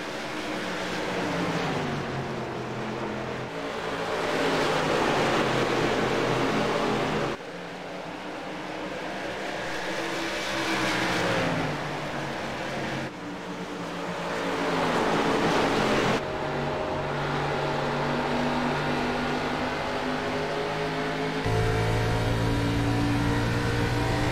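Race cars at full speed at Iowa Speedway in the iRacing video game, engines droning and rising in pitch through long sustained passes, loud and continuous, with no voices.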